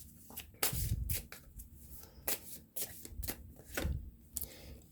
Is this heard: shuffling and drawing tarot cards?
yes